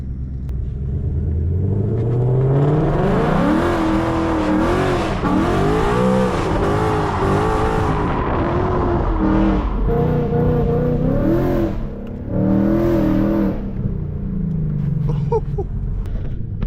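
A Ford Mustang S550 doing donuts, its loud engine revving hard and repeatedly in rising and falling surges, close up and sustained with no talk.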